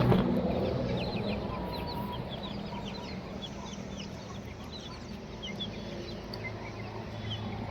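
Weak young chicks chirp in rapid, high peeping calls, many birds together and fairly close, over a steady low background hum with no talking.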